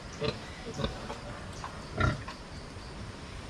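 Domestic pigs roaming free on a farm give several short grunting oinks, close and moderately loud, spaced irregularly over a few seconds, with someone speaking nearby between them.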